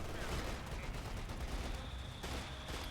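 Heavy machine gun fire in a real-time strategy wargame tournament match, dense sustained bursts rattling continuously under a busy battle din with a caster talking over it.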